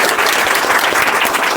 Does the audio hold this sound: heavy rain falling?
no